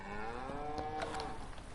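Cows mooing in a farming video game, a single drawn-out low moo heard fairly close with a rising, wavering pitch over a soft background.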